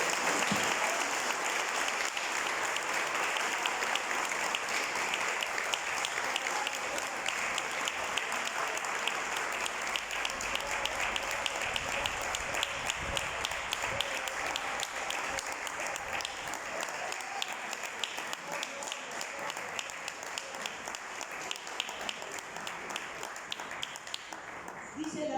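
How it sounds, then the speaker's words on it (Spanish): Church congregation at a Spanish-language worship service gives a long, sustained round of applause, dense and continuous clapping that lasts over twenty seconds and tapers slightly toward the end, with faint voices mixed in. "Démosle un aplauso al Espíritu Santo."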